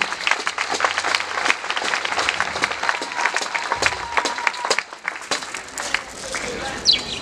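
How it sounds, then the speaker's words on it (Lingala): Crowd applause at a UDPS party rally, dense clapping sustained under a speaker's amplified voice, with a noisy outdoor crowd and a brief lull near the end. "bobeta maboko makasi"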